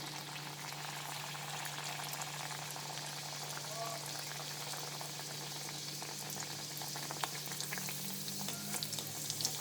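Oil heats in a wok with a soft, continuous sizzle and faint bubbling, fairly quiet and steady, while a low hum runs underneath.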